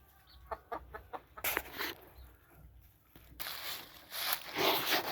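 A brown red hen clucks in a series of short, close calls, with louder bursts of rustling and movement around her and no talk.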